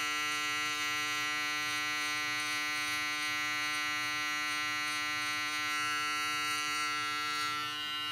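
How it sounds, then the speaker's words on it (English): Electric hair trimmer with a very sharp blade buzzing steadily during a barber's edge up, a close, continuous electric drone with strong even harmonics and no pauses or talk. "These trimmers put like a seriously sharp line in though."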